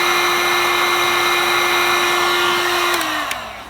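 A heat gun runs steadily on full power, warming the tight crankshaft bolt of a 2007 Ford Focus 1.6; a loud, continuous whine holds, then its pitch drops and winds down near the end.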